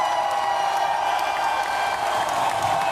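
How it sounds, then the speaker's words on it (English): An audience breaks into steady applause, a dense wash of clapping with some cheering mixed in, sustained evenly for a few seconds in a crowded room. "Let's clap for that."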